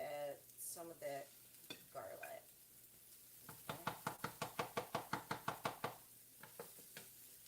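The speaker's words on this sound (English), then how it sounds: "Let's go ahead and add the onions first. All right. Then those green onions. Okay. Add some of that garlic." Onions, green onions and garlic go into a hot pan, and a voice comes first, then a run of about a dozen regular knocking stirs or chops over a light sizzle.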